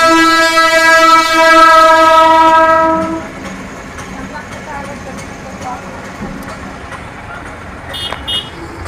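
A train sounds a long, loud horn blast at a railway crossing, then rumbles past in a softer, steady roll with faint clatter.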